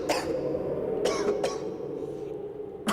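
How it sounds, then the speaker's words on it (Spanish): A violent coughing fit in a few harsh bursts, with sharp barks near the start and middle and a final one at the end, close and fairly clear. "produciéndole un violento ataque de tos"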